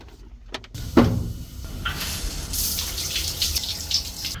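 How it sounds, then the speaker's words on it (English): Shower water running at a Planet Fitness gym, a steady broadband hiss that swells after a door-like thump and a brief clatter near the start, continuing loud and close with no talking. "ready for a good old Planet Fitness shower"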